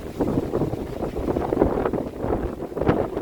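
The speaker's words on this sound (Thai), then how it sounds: "ลมแรงครับพายุฤดูร้อนเนาะ" Strong summer storm wind buffets the microphone in loud, uneven gusts and rumbling rushes, continuous and close throughout.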